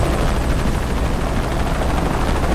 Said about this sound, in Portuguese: Sempre odiei helicópteros.